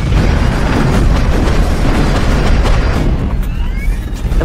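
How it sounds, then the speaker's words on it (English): A loud, sustained roaring rumble of a jet engine compressor stall on an airliner, with dense booming bursts, tapering slightly toward the end. "I believe it's a compressor stall."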